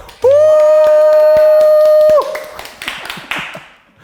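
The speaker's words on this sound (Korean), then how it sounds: "큰 박수로 모셔보도록 하겠습니다" A loud sustained electronic musical sting rings out at a corporate job talk show, then cuts off into a scattered round of audience clapping welcoming two guests, fading toward the end.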